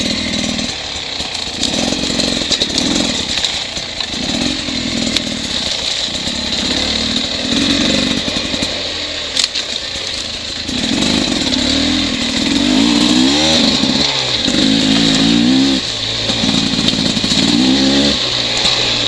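A Beta 300RR two-stroke dirt bike during break-in, its engine revving hard and loud up close, rising and falling repeatedly as it pulls through the gears, with a buzzy raspy drone throughout.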